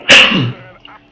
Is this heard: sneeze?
yes